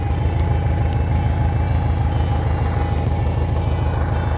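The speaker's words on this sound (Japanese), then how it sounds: "ちょっとアクセル踏んでみますね" An air-cooled VW Mexican Beetle engine runs with a loud, steady, close-up throbbing drone that holds an even level throughout, with no clear rise in pitch.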